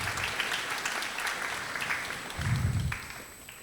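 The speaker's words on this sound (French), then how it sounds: "Nous pouvons lui donner des acclamations" Audience applause at the Africa Web Festival 2022 opening ceremony, a steady wash of clapping from a large room, fairly distant, swelling slightly before fading.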